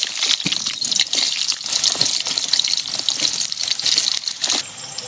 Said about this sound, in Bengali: ভালো মতো করে আলুগুলোকে ভেজে নেব লবণ আর হলুদ দিয়ে।